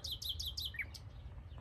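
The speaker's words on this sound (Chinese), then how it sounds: "听这个鸟叫，叫的好好听" Birds sing in a rose garden in Kashan, Iran: a quick run of five bright, high chirps followed by a short trill, fairly faint over a low background hum.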